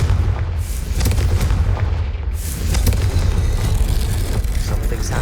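A Confringo blasting spell in the Hogwarts Legacy video game, heard as a loud, continuous barrage of booming blasts and cracking impacts over a dense rumbling bed, with no pauses across the whole stretch.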